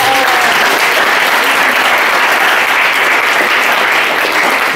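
Audience applause after a poetry reading at a literary event, a loud, dense, steady burst of clapping from a close crowd, sustained for several seconds.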